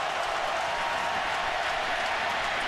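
Football stadium crowd at a 2006 Clemson vs Georgia Tech college game rising to its feet, a broad steady roar of cheering and clapping heard from a distance.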